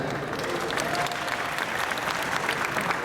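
Steady applause from a large convention audience at an anime event's opening ceremony, a dense continuous wash of many hands with faint crowd murmur beneath, held evenly throughout.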